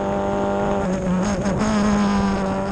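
F4 race cars at Road America roar past near the exit of Canada corner, a loud sustained high-pitched engine wail with shifting tones as several cars pass in close succession.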